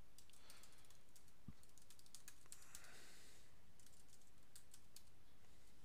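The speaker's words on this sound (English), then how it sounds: "I'm going to type in my website." Rapid, irregular key clicks from a computer keyboard, heard close and fairly quiet with no talking.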